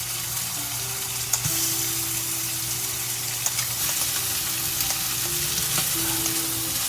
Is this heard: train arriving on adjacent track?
no